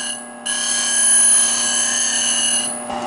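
Bench grinder fitted with a CBN wheel sharpening a lathe tool freehand, a steady high whine with a strong hum that swells slightly as the tool touches and fades at the end.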